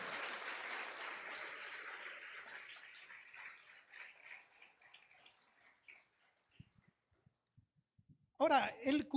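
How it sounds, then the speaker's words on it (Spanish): A church congregation applauds during a Spanish-language sermon, the clapping loud at first and then thinning and fading into a few scattered claps, ending in a brief burst of sound. "Dale fuerte aplauso al Señor."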